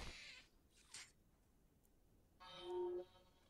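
A cat meows faintly a few times in short, separate calls in the video game Stray, the last one longer and louder, over near silence.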